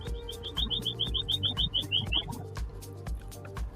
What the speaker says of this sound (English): I hear a bird.